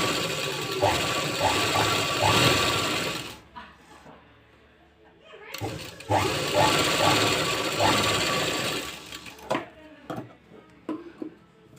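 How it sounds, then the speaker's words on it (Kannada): A sewing machine stitching a curved fabric sleeve, running in two long steady whirring bursts separated by a pause, followed by short clicks and handling noises. "ಸೊ ಇದನ್ನು ಈಗ ಸ್ಟಿಚ್ ಮಾಡ್ಕೋಬೇಕು."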